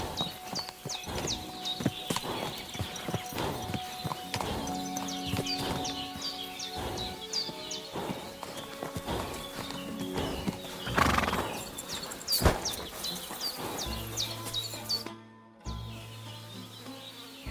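A horse in the video game Kingdom Come: Deliverance II neighs repeatedly over a steady clip-clop of hooves, with buzzing insects and ambient game sounds around it.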